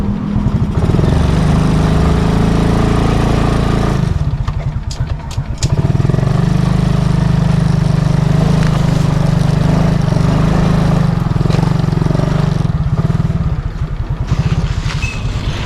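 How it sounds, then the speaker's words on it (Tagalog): A motorcycle being ridden, heard from the rider's seat: a loud, continuous engine drone with a brief dip and sputter partway through before the steady running resumes, with no talk. "naka-ride na ako dito sa motor ko"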